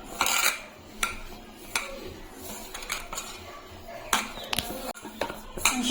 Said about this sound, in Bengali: এখন আমি ভালো করে মেখে নেব।